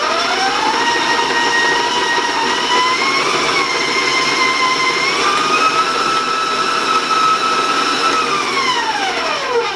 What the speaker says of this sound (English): So I'm going to turn my mixer back on